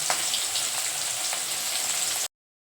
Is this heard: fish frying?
yes